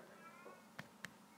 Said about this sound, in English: If you hear my cat meowing, I'm sorry about that.